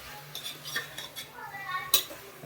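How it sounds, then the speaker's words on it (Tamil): Metal spoon scraping and clinking against a pan while chicken is stirred with turmeric and salt in the dry pan, a few irregular scrapes and knocks up close with one sharper clank near the end. "நல்லா சுருள கிண்டணும் தண்ணி இல்லாமல்."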